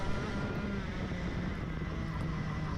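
Racing go-karts at a Melbourne city titles meet, heard as a steady, loud, dense engine drone with a low buzzing tone running continuously, several karts close together on the track.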